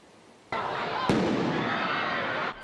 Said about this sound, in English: Fireworks and fights in downtown Miami.